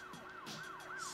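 Police sirens wail in a horror film scene, a rising and falling electronic tone sweeping repeatedly, fairly faint and distant with a hiss of background ambience.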